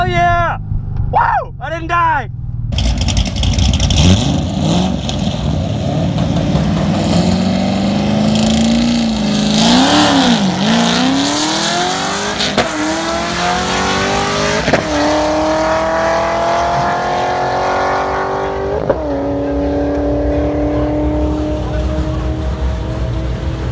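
A cammed C6 Corvette launches at a drag race at about 3,000 RPM. The loud engine rises through several gear changes in long rising pulls, close and dominant, and brief voices are heard at the start.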